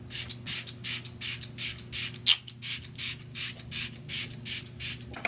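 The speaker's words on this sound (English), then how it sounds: "Now we're gonna spray our face." Short pump sprays hiss in a steady rhythm, about a dozen quick bursts close to the mic, with a faint squeak partway through and no talking.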